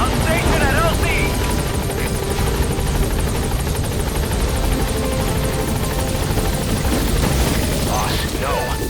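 The Pequod helicopter in Metal Gear Solid 5 approaches a landing zone, its rotor drone loud, close and constant, with a radio-style voice and other game sounds layered over the continuous engine roar.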